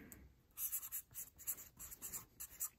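A pen or marker scratches labels onto coloured paper cutouts for a classroom biomolecule activity, with quiet, close, repeated short strokes in bursts and no talk over it.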